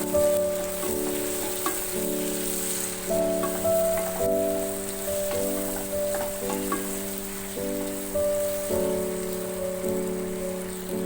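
Peeled, chopped tomatoes sizzle steadily in a pan with onions while making achari bhindi, a constant crackle under melodic background music with no talking.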